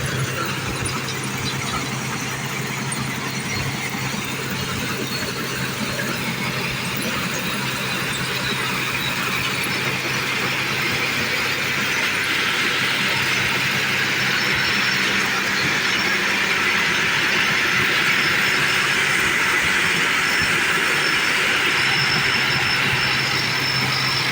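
A combine harvester cuts lodged rice in a waterlogged paddy, heard from inside the cab as a loud, unbroken engine and machinery drone with a faint high squeal running throughout.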